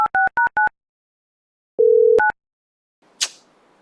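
A telephone call ends with a short run of electronic beeps, then a longer steady tone and two more beeps, followed by a faint click, all clear and alone with no talking.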